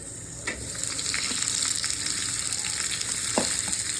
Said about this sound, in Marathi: सर्वात आधी 2 चम्मच तेल टाकलेलं आहे. त्याच्यामध्ये आपण कांदा परतून घेऊ गोल्डन कलर होईपर्यंत.